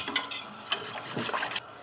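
A spoon stirs a homemade peach jelly mixture in a pot, giving soft scraping and rubbing strokes with a few light clinks, close and fairly quiet, with no voice.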